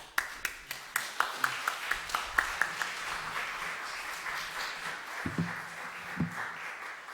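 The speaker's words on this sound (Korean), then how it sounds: "환영하는 박수." A church congregation gives a short round of welcoming applause, opening with a dozen or so sharp, distinct claps in an even rhythm before fading into softer scattered clapping and a couple of low thuds.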